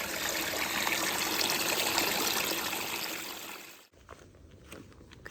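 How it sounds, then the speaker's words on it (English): A trail water source on a mountain hiking route: a steady stream of water flows and trickles loudly and close for most of the time, then cuts off abruptly, leaving quieter outdoor ambience. "This is a great water source."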